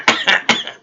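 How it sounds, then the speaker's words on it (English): A person coughing after smoking weed, three sharp close coughs in quick succession, loud and alone with no talk. "You shouldn't be fucking coughing that much."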